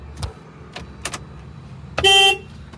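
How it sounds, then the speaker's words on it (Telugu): A 2015 Maruti Alto 800 LXi gives one short, loud, close horn toot after a few faint clicks inside the car. "Horn okay."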